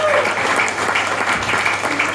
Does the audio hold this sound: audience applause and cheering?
yes